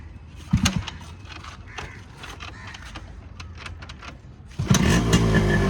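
Yamaha RX100 two-stroke motorcycle being kick-started: a few scattered mechanical clunks and knocks, then the engine catches near the end and runs loud and steady close by.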